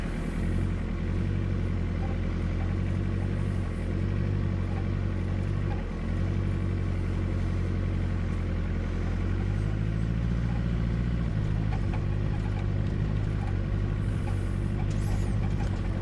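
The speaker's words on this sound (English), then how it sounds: "Just slow and steady driving." A low engine rumble goes on without a break as an off-road vehicle crawls slowly over a rough mountain track near Mt Wellington and Zeka Spur, with a steady hum that shifts slightly in pitch and faint cabin noise.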